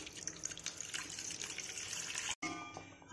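Water poured over goat blood in a pot before boiling, a steady broadband splash and trickle that runs for about two seconds, breaks off briefly, then resumes more faintly; no talking.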